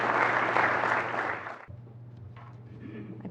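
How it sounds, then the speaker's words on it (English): Audience at a graduation celebration and awards ceremony claps in a dense round of applause that fades out after about a second and a half, leaving quiet room tone. "I appreciate you doing a round of applause for them"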